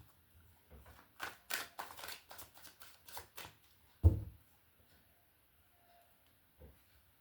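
Tarot cards are shuffled in a rapid run of crisp riffling bursts, followed by a sharper slap as a card is laid down, then a faint tap; close and fairly quiet, with no talking.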